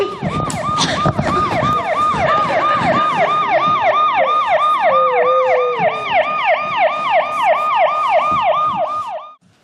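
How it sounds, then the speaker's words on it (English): Wailing emergency sirens from a children's musical stage production, several rising-and-falling tones overlapping in a steady repeated cycle, loud and close throughout before cutting off at the end. "Are those sirens I'm hearing?"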